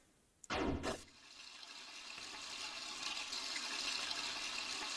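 Water gushes at a sink in the Deltarune game: a brief loud splash-like burst, then a steady rushing stream that grows gradually louder and continues to the end.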